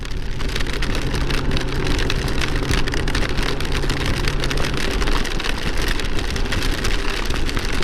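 Steady rain falls outdoors, a dense, loud, even wash of drops on surfaces throughout, with a faint low hum underneath for the first part.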